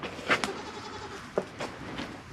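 Goats on a farm bleat in a few short calls, two louder cries near the start and middle and fainter ones after, in a quiet outdoor morning setting.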